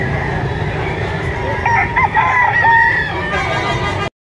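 A rooster crows at a busy outdoor livestock market in Lipa, Batangas, its drawn-out call rising clearly over steady crowd noise and scattered clucking, fairly close and loud.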